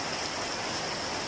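Heavy rain pours outside as a dense, even rushing hiss that fills the whole moment without pauses or voices.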